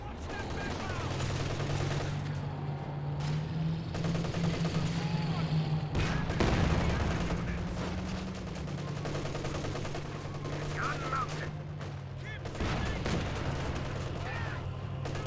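Artillery shells land in a Company of Heroes 2 battle, heavy booms and gunfire piling up in a continuous, loud barrage with a sharp impact burst midway, under steady commentator talk.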